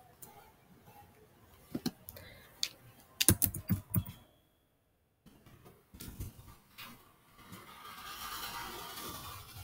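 Quiet, close typing on a computer keyboard during a coding session, with scattered bursts of key clicks and a short pause; faint background noise rises toward the end.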